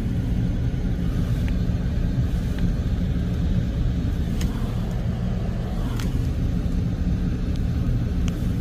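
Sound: Buick Rendezvous engine being revved

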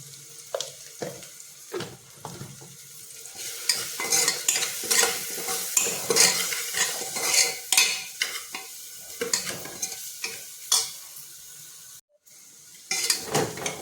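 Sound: sautéing Malvani roasted masala in a pan

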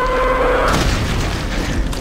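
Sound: gunshot in Brutal Doom video game

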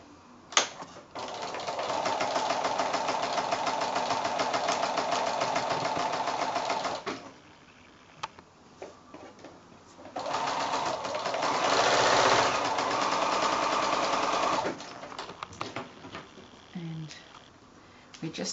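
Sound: sewing machine stitching diagonal lines on quilt squares

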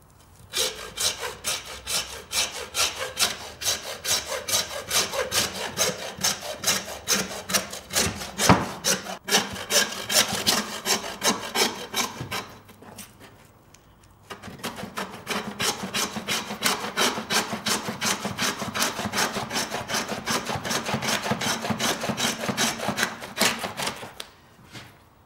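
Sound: saw cutting through beef ribs

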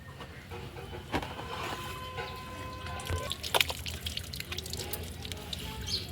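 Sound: water poured to wash elephant foot yam

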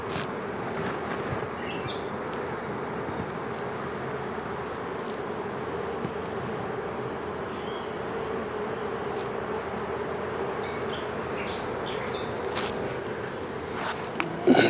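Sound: honey bees buzzing

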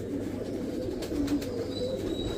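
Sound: Teddy pigeons cooing

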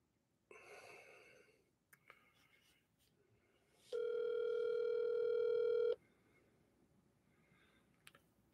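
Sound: telephone dialing and ringing, call not answered

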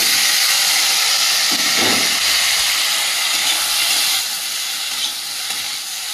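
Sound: ginger and taro frying in hot oil, sizzling

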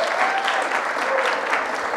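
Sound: congregation applauding the Christmas play actors

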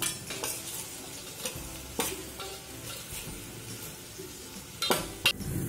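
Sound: okra and onion being stir-fried in oil

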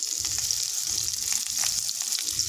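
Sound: raw mango frying in oil with five-spice

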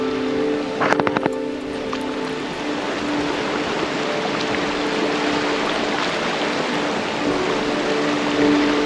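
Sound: waterfall rushing water, Sikidiri Waterfall, Ranchi

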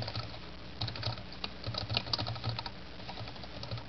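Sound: typing a code comment on a computer keyboard

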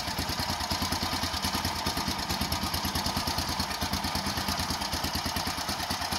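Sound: Doodle Bug scooter engine running

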